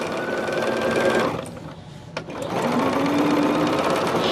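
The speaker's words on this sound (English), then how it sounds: "So we're just top stitching this real quick" A sewing machine top stitches fabric for a picnic caddy, running as a loud, steady close-up whir that briefly slows and pauses before resuming at full speed.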